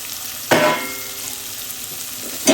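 Tomatoes fry in hot oil with ivy gourd for a moong dal dish, giving a continuous close sizzle. Two sharp stirring scrapes come at the start and the end.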